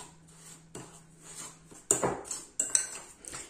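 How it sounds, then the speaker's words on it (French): A fork mixes soft butter and sugar in a bowl, making intermittent clinks and scrapes against the dish that grow sharper and louder toward the end, with no speech. "Et je vais mélanger tout ça. Moi j'ai pris une fourchette."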